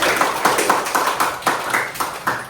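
A small class of students claps for classmates after a phone-etiquette exercise, a sparse, uneven patter of hand claps with distinct individual strikes repeating through the room, close and moderately loud, with no talking.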